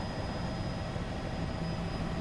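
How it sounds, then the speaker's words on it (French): A military helicopter flies low over the cliffs of a desert valley in Mali, a steady, dense engine and rotor roar held at an even, moderate level throughout without a break. "L'hélicoptère est la cible favorite des insurgés."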